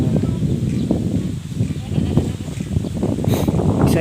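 Goats on a farm bleat amid a busy, noisy pen, with overlapping calls from several animals close by over constant rustling and shuffling, and a person speaks briefly in between.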